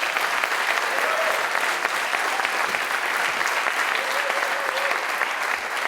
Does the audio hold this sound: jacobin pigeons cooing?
no